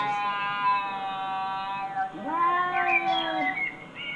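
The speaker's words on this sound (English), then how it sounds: "Those cats have some beef or something. Like, they did not look happy at each other." Cats fighting in a played recording, with long, wavering, tonal yowls that rise and bend as two voices overlap, loud and close throughout.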